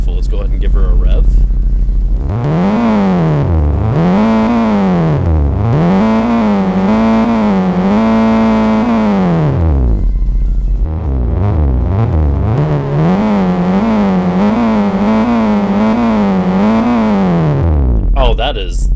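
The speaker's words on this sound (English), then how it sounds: "Let's go ahead and give her a rev" Roblox car game engine being revved hard several times in a row, each loud, distorted rise and fall of engine pitch sustained for seconds and repeated after a brief pause, heard up close with no talk.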